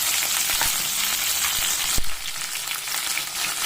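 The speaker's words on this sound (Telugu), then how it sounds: "బీన్స్, అన్ని వెజిటేబుల్స్ వేసి బాగా వేయించుకోవాలి." Beans and mixed vegetables fry in a pan with a continuous loud crackling sizzle and a couple of sharp stirring knocks, and no voices.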